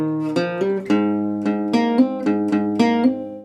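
Resonator guitar picks a short country riff following the chord progression, about eight bright plucked notes in a steady rhythm, ringing with metallic sustain, up close and alone in a pop country track.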